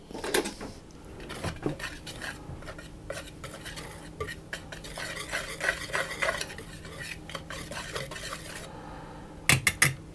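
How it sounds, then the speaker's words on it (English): Salt, sugar and baking powder stirred together in a bowl for cheesy scones, quick rhythmic scraping and clinking of a utensil against the bowl, close, with a sharper clatter at the end. "I'm going to give those a stir around to get those combined"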